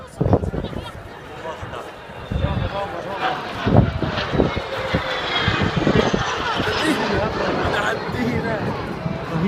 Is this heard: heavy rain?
no